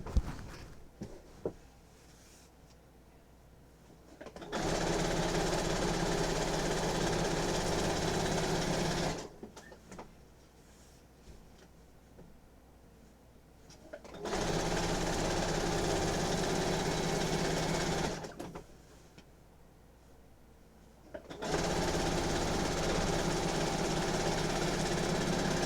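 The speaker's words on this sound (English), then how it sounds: "I'm just sewing them together using a 1/4 inch seam" A sewing machine stitches quilt binding onto a quilt with a quarter-inch seam, running in three long steady whirring bursts separated by quiet pauses, close and alone.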